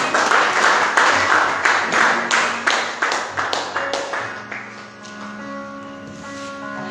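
A church congregation claps in a steady, rhythmic beat to acclaim the Lord at a French-language service. The claps come close together and loud, then fade as a sustained organ or keyboard chord takes over.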